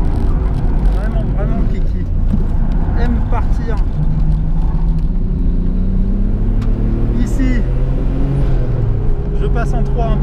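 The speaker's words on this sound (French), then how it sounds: "Rétrogradage en seconde. Très facile à contrôler." A car engine drones steadily and loudly from inside the cabin as the driver downshifts into second gear, with a rising and falling engine tone under continuous road rumble.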